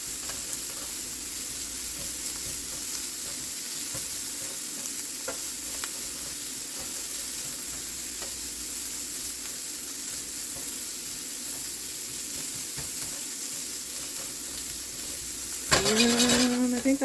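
Tiny pieces of shrimp fry in a pan with seasonings, giving a steady close sizzle that holds throughout, with a louder burst of hiss near the end.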